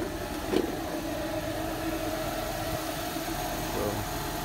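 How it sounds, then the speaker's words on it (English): A 2015 Ford Mustang engine idles steadily after a remote start, a continuous mid-pitched rumble heard close up, with a small knock near the start and no variation in engine speed. "It's the remote start."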